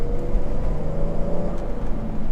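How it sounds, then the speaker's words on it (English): 2011 Porsche Cayenne S 3.0 Hybrid driving and accelerating, a loud steady low engine rumble and road whir heard from inside, with no talking. "let's go out for a drive and see how this car performs"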